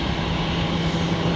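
Airbus A330 jet rolling out with only one thrust reverser deployed, a steady broadband roar with a low engine hum, continuous and moderately loud with no talk.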